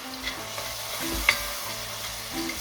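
Chopped onion frying in a pan over medium to low heat, a soft steady sizzle with a few faint clicks and stirring taps, close and without talk.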